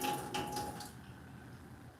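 Tap water runs steadily into a pot while cooking a Caribbean meal at home, a soft continuous rush that is fuller in the first second and then thins to a quieter trickle.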